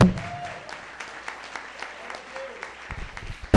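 Church congregation clapping during a worship service, a scattered patter of hand claps at moderate distance, fairly soft and steady throughout with a louder burst at the very end.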